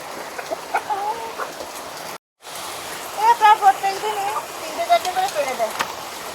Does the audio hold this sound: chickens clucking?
yes